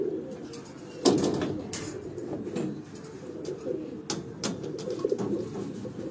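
A flock of pigeons on a Lahore rooftop keeps up low, rolling coos close by, with a few sharp flutters and taps mixed in.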